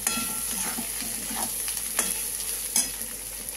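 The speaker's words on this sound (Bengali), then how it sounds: "দিয়ে দিলাম চিংড়ি মাছটা আমি। এবার এটা কষা হবে" Prawns sauté in a hot pan with a steady, close sizzle, broken by a few sharp spatula scrapes and clinks, and no talking.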